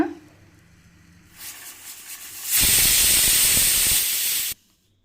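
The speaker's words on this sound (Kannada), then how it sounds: "ಈಗ ಲಿಡ್ನ ಕ್ಲೋಸ್ ಮಾಡಿ ನಾವಿಲ್ಲಿ ಒಂದು ಟೂ ವಿಷಲ್ ಅಥವಾ ತ್ರೀ ವಿಷಲ್ನ ಕೂಗಿಸ್ಕೊಳ್ಳೋಣ" A pressure cooker full of drumstick leaves and green gram builds up from faint hissing to a loud, sustained blast of whistling steam that stops abruptly.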